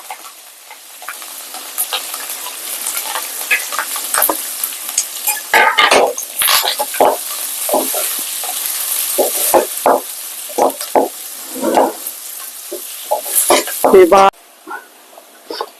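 Green chillies, curry leaves and onions fry in oil while being stirred, with a bright sizzle, scraping and clattering strokes of a spoon, and a person talking intermittently over the cooking.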